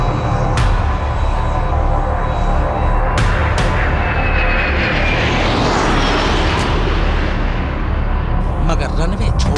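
An airplane leaving the runway gives a loud, continuous engine roar that holds steady throughout, close and dominant, with a rising whine partway through.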